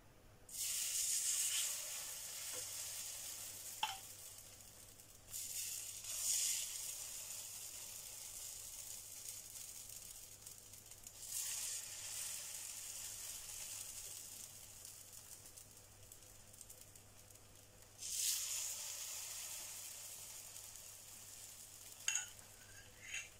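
Pea and mint pancakes fry in oil in a pan with a steady, faint hiss and crackle, swelling in several bursts of sizzling over a long stretch with no talk.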